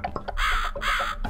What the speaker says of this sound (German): Die Krähe kommt jetzt gleich